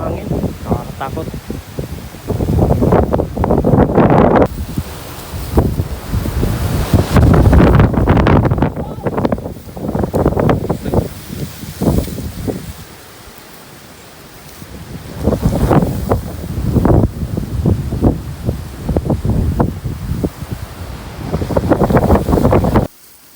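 Strong gusts of wind buffet the microphone in heavy, uneven bursts, with brief lulls between them.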